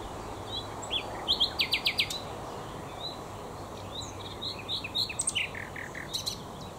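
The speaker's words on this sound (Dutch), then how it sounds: "Zingen dan weer kan deze nachtegaal bijzonder mooi, ook uitsluitend in de lente." A nightingale sings outdoors in bursts of rapid, repeated chirps and whistled notes, moderately close, over a faint background hiss.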